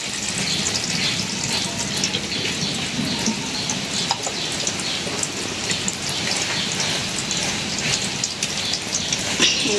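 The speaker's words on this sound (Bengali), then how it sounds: "কড়াইটা গরম হয়ে গেছে, সরিষার তেল দিয়ে দিলাম" Mustard oil hisses and crackles in a hot wok over a steady, loud, rain-like sizzle that continues without pause.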